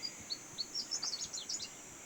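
Small birds chirp in quick, high tweets from a dry deciduous forest thicket in Madagascar, a faint cluster of calls over quiet background hiss.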